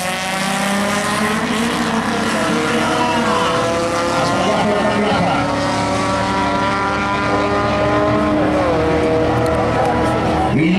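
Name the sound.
race car engine screaming at hill climb race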